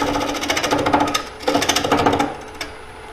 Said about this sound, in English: I'm getting a lot of chattering in here.